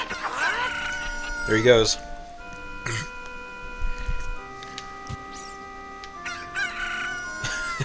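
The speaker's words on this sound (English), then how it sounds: "Oh my god, chickens!" Cuccos, the chickens of the video game Zelda: Ocarina of Time, cluck and crow in loud bursts amid game music, with someone briefly talking over them.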